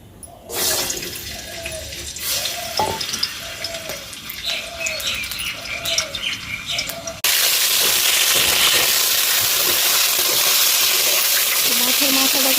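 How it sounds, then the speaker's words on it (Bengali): A fish head fries in oil in a pan. Mixed kitchen noise comes first, then a loud, steady hiss of sizzling fills the rest. "মাছের মাথাটা ভেজে নেব।"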